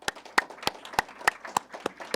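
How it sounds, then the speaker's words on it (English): Applause at a university AI in Education symposium, heard as a sparse, evenly spaced run of sharp, distinct hand claps in a quiet room rather than a dense ovation. "So I just want to give her a round of applause."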